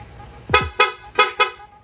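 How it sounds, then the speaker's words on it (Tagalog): A Honda Click motorcycle horn honks in four quick, loud toots close by, with brief gaps between the blasts. "Tapos busina. Rapid horn."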